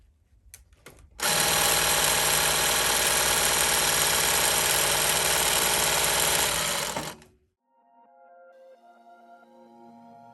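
A sewing machine stitches horsehair braid onto a dress train, running loud and close in one steady burst of about six seconds before stopping, followed by faint quiet handling.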